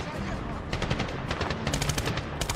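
Rapid video-game gunfire from Medal of Honor (2010), a steady stream of shots in quick bursts over a busy battle background, with someone talking over it.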